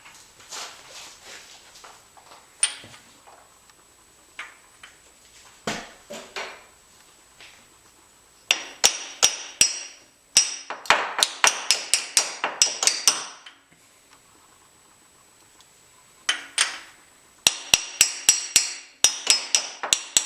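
Socket tapped with a hammer to press a new cam seal into a Honda Prelude engine, heard as sharp metallic knocks that come singly at first, then in quick rhythmic bursts of many close, loud strikes.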